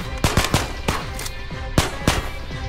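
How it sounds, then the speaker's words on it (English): Full-auto gunfire in the VR shooter Ghosts of Tabor: loud, close bursts of rapid rifle shots in quick clusters over a constant rumbling background, with no talking. "I'm switching to full auto."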